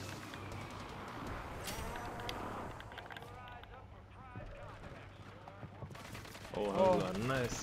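Call of Duty gameplay, with bursts of gunfire scattered across a busy, noisy battlefield mix while players talk over it excitedly.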